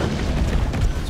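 A mine exploding in Resident Evil 3, a heavy low rumbling blast that rolls on briefly with no clear sharp attack.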